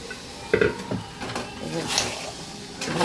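Boiled chickpeas tipped into a pan of fried spice masala, with a clatter of spoon against pan and a light sizzle as they are stirred together, close by, in a few uneven bursts.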